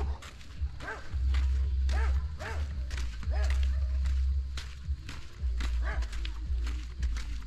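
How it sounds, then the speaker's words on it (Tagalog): A dog barks repeatedly in quick bursts over a low rumbling background, some barks sharper and yappier, fairly close by. "May aso."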